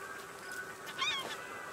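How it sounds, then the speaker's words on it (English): A seagull in the survival game Raft gives a couple of short, honking, nasal squawks near the middle over a faint steady background hum. "I killed a seagull! My first kill!"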